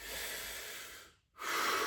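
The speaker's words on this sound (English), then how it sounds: "You've got the sort of upper back trap breathing, where you're breathing for these accessory muscles into your upper trap." A person demonstrates shallow upper chest breathing into the trapezius muscles, two long audible breaths close to the mic separated by a brief pause, with no talking.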